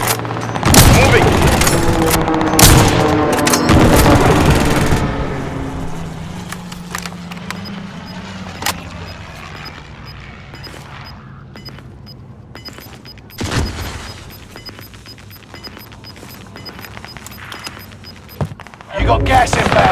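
Dense bursts of gunfire in Call of Duty: Modern Warfare, loud and rapid at the start, then thinning to scattered distant shots under a game announcer's voice, with a few sharp cracks later.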